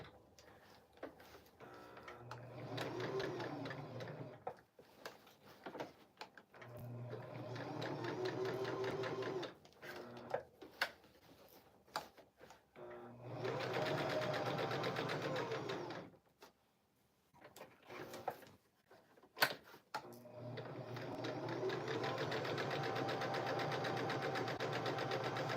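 A sewing machine runs in four long bursts of rapid stitching while doing machine appliqué, with short pauses and small handling clicks between runs.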